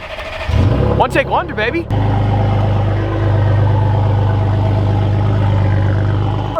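Lamborghini Aventador widebody roadster cold start: a sharp cranking burst and revving flare, then settling into a loud, deep, steady idle rumble, with someone speaking briefly near the beginning.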